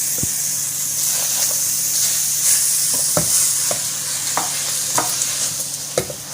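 Grated pumpkin is stirred into dry-roasted gram flour in a hot pan, a steady sizzling hiss punctuated by the repeated scrape and tap of a spoon against the pan.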